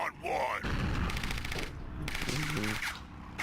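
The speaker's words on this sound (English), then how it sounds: "Someone's shooting at me." Gunfire in the motorcycle combat game Road Redemption, rapid bursts of shots crackling over a busy mix of game music and effects, with a voice talking through parts of it.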